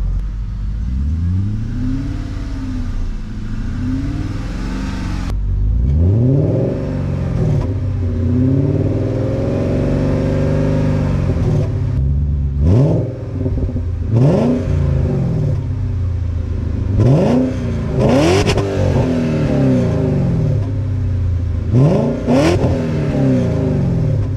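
Repeated engine revs of an ethanol-fuelled BMW E39 540i rise and fall as it accelerates, several throaty bursts over a low idle rumble, close and loud, no talking.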